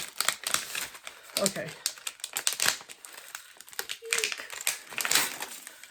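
Sheets of decorative craft paper being peeled away and crumpled by hand, a run of crisp crinkling and tearing bursts close by, with brief talk in between.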